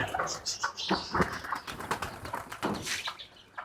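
Pigeons in a home pigeon house cooing close by, soft repeated throaty coos layered with faint chirps and light rustling, continuous and fairly quiet throughout.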